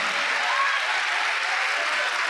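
A church congregation claps together in dense, steady applause that fills the room at a loud, even level throughout.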